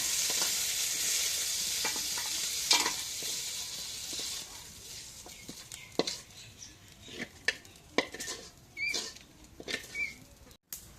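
Meat frying in a pan, with a hissing sizzle that fades while scattered sharp scrapes and clatters of stirring grow louder and more frequent, close by and alone.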